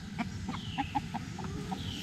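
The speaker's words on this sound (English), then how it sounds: "The roosters were fighting." Chickens cluck in short, quiet, scattered notes, a handful of soft calls from roosters outdoors in a backyard flock over low background noise, with no talk.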